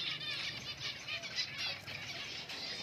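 Finches flutter in one by one to collect nesting material, their soft, quick wingbeats pattering against faint high chirps. The sounds are light and somewhat distant, with no voices.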